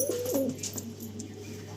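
Andhra high-flying pigeons coo in low, rolling phrases close by, repeating steadily over a constant background hum.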